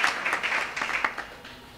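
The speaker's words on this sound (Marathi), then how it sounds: "एकदा जोरदार टाळ्या वाजवा दादांसाठी।" Audience applause at a devotional festival for Krishna Janmashtami and Sant Dnyaneshwar, honouring a singer: a short, dense burst of clapping that thins out toward the end.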